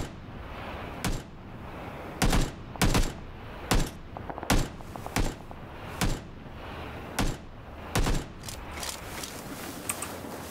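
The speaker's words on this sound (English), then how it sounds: "Is that you shooting?" Gunfire in PUBG, with about a dozen sharp, loud shots in irregular single and paired bursts spread across the stretch, and no talk over them.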